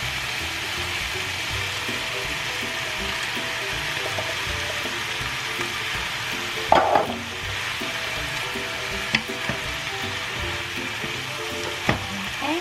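Hearts of palm and jackfruit sauté in a pan with a continuous, even sizzle, steady and close, broken by a few brief clicks of a utensil and no speech.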